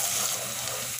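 Chopped onion frying in a pan while it turns light golden, a steady close hiss and sizzle that runs without a break throughout.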